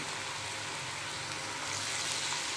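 Wheat flour bonda sizzle as they fry in hot oil, a steady, soft crackling hiss that carries on evenly throughout without any talking.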